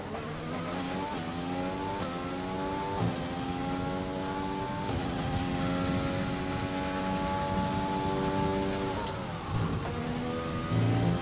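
Formula 1 race car engine accelerating at the Hungarian Grand Prix in F1 2020: a loud, close, high-revving whine climbs through repeated gear changes, each shift marked by a brief drop before pitch rises again, continuous without talk.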